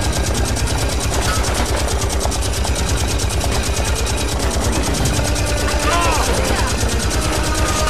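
Rapid, sustained automatic gunfire in the video game The Saboteur, a dense, even stream of shots lasting the whole stretch over a driving engine drone, loud and close, with voices talking over it.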